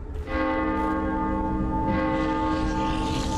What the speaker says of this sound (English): The bell. They're drawn to it.